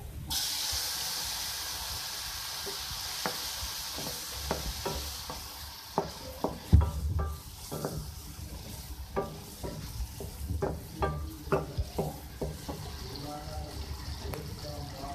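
Lentils simmering with tomato in a pan for masoor dal, a soft steady sizzle under repeated spoon scrapes and taps against the pan, with occasional talk over it.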